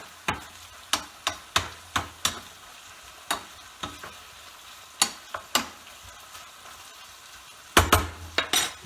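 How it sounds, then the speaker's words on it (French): Spiced lardons are stirred in a frying pan while cooking for a quiche Lorraine: a series of sharp, close utensil clinks and scrapes against the pan, fairly regular, over a faint sizzle, with a busier cluster of knocks at the end. "Je vais baisser et je remue dans ma poêle"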